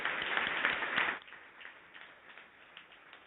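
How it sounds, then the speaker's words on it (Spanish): A burst of audience applause at an opening ceremony of a human rights forum, many hands clapping at once, lasting about a second before fading into quieter room noise and scattered sounds. "Se vale aplaudir, por supuesto."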